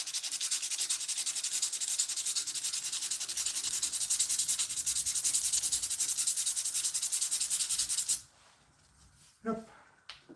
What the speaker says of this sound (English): I grab my little orbital sander here.